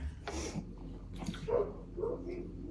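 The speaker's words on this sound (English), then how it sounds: "now we are ready to eat and listen to a dog bark next door" A dog barks a few times from next door, somewhat distant and muffled, heard indoors over a quiet kitchen room tone.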